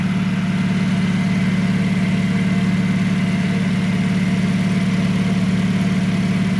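Car air-conditioning compressor heard close up near its magnetic clutch while the engine idles, a steady low hum with a constant mechanical drone and no change in pitch throughout.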